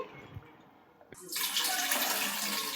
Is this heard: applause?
no